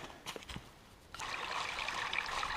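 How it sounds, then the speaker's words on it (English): A small stream of water trickles across a hiking trail near Oriole Lake in a soft, steady burble, faint and close, after a few light footsteps or rustles at the start. "I've hit a spot here where there's a little stream of water coming through"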